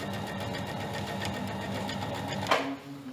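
A sewing machine stitches elastic onto a waistband, a fast even rattling hum running nearly continuously at close range, with a brief clack near the end before it slows down.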